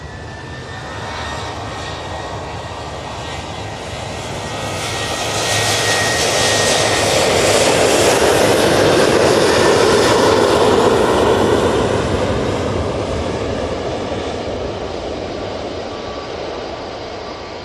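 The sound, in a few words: Ryanair jet starting takeoff roll to Alicante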